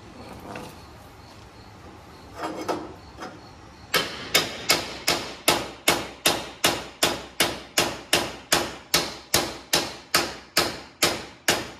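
Steel tubes are driven into place with a hammer, a long run of evenly spaced, loud metallic blows, about two per second, following a few softer taps.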